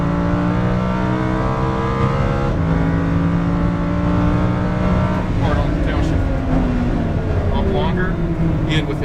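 A Lamborghini Huracán LP610-4 engine drones and climbs in pitch as it accelerates at full throttle on a track, a loud continuous whine with a voice faintly underneath.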